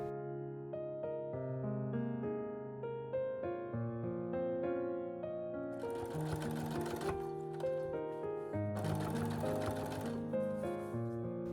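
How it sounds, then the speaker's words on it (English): A sewing machine stitches the matched centers of a pleated skirt together, its motor whirring in two short bursts over steady background music. "Then match the centers and sew them together."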